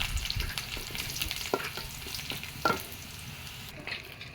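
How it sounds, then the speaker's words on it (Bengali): Dried chillies and onion sizzle steadily in hot oil while tempering an egg curry with coconut paste, with occasional sharp stirring clicks and scrapes against the pan under a constant frying hiss. "শুকনো মরিচ দিয়ে বাগার দিয়ে দেব। শুকনো মরিচও দিয়ে দিলাম।"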